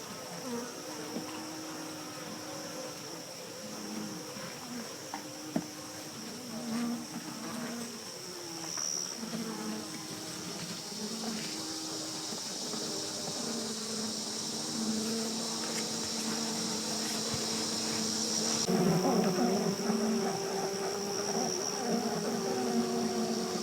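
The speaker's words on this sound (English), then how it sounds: "the pitch of the sound that the bees were making has dramatically changed already" A dense, steady hum of many honeybees buzzing close by in a hive, with layered droning tones that shift and swell toward the end.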